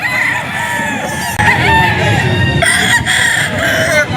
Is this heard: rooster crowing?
yes